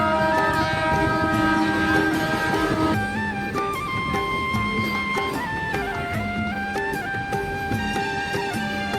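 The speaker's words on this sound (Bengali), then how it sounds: "অনেকক্ষণ পর দেখো ট্রেনও চলে এসছে।" Train pulling into a mostly empty station, loud sustained horn blasts layered with rumbling wheels and shifting tonal whines as it draws near, steady and continuous throughout.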